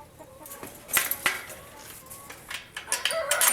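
Chickens cluck in short, scattered bursts close by, several birds calling irregularly over a quiet background.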